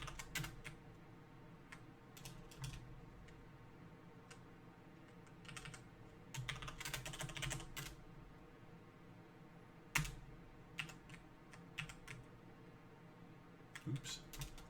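Bursts of clicky keystrokes on a computer keyboard while setting up Gentoo Linux, quiet and close, in irregular runs with pauses between them and a louder single tap near the end; no talking.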